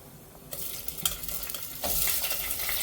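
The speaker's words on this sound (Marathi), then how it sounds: "खडे मसाले जरा फुलले की त्यामध्ये आपण कांदा टाकून घेणार आहोत" Onion added to whole spices in hot oil for a spicy veg pulao, starting with a burst of sizzling that keeps going and grows louder, with scraping stirring sounds, and no talking.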